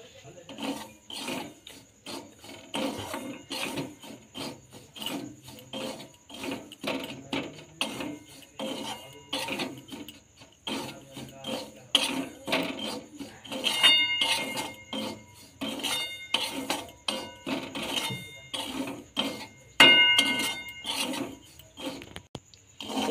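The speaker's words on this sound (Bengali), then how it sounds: "ঘিটা গরম হয়ে গেছে, এবার সুজিগুলো দিয়ে দিচ্ছি।" Semolina stirred and roasting in hot ghee in a wok, a dense run of scraping, rasping rubs and soft sizzle, close and fairly quiet, with occasional metallic clinks against the pan.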